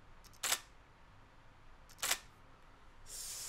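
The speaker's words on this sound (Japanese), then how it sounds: "あとはやっぱりねこのシャッター音ですよね。" Two crisp shutter releases from a Nikon D780 DSLR camera, each a quick mechanical clack, spaced well apart in a quiet room, followed by a softer hiss-like sound at the end.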